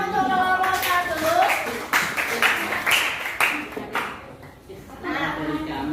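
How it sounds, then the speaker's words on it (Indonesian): A classroom claps for a student group. A few seconds of scattered, fairly close hand claps overlap with voices and room noise. "Tepuk tangan untuk kelompok 1."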